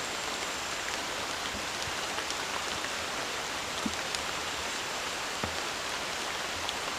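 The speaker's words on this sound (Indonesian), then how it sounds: "Wow, hujannya lebat." Heavy rain pours steadily at a nighttime campsite, a dense, even hiss with occasional sharper drips, continuous and close, no voices.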